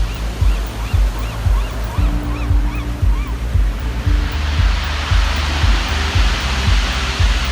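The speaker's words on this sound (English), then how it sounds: "when the water recedes, it sounds kind of like one of those rain sticks" Waves wash back over small black pebbles and shells on an Oregon beach, a steady close hiss and rattle with a faint rhythmic low thumping throughout and no voices.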